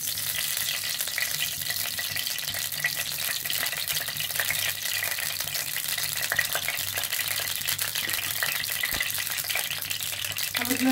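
Oil sizzles steadily in a hot kadai on a gas stove, a dense, close, continuous hiss with faint crackles and occasional small ticks, with no talking.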